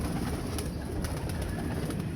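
Pigeons cooing in a loft with new birds, a steady soft low murmur of coos running through the whole stretch alongside faint chirps, fairly close and continuous with no talking.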